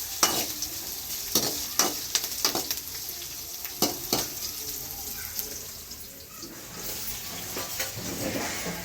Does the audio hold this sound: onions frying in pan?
yes